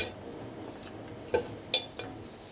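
Metal spoons clinking while four spoonfuls are measured in a home kitchen, a few sharp light clinks spaced over a couple of seconds, close and fairly faint against quiet room noise.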